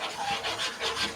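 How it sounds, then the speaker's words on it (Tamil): Thick halwa is stirred nonstop in a pan, a close, rhythmic rubbing and scraping that repeats about every quarter second. "இதை இப்படி கைவிடாம கிண்டி கொண்டே இருக்கும்."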